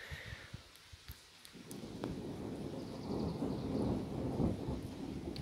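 Thunder rumbles through a moderate thunderstorm near Grenoble in the French Alps, a rolling low roar that swells and holds for several seconds, with faint rain noise beneath and no voices.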